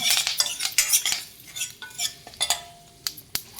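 Mustard seeds, curry leaves and dried chillies crackle and spit in hot oil as they are tempered in a pan, with busy popping, sizzling and occasional sharp metallic knocks from stirring, close and fairly loud.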